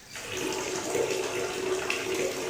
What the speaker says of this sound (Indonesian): Tiba-tiba, air keran menyala sendiri.